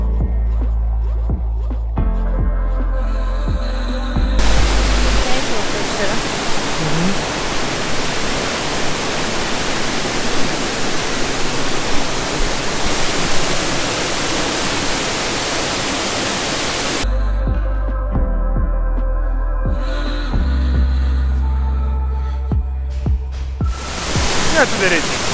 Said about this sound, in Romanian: Am ajuns și la a doua cascadă, Satieng, are 10 metri înălțime și e situată în interiorul unei păduri.